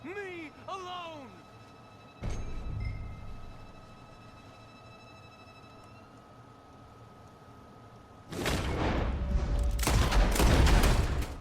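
Gunfire in the Red Dead Redemption 2 video game: one sharp, loud blast, then a dense run of rapid shots near the end, over a low game ambience.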